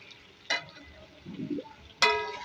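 Tomatoes being stirred into beef aloo gosht in a pot: two loud sharp clatters about a second and a half apart, with a softer scraping, sizzling mix in between.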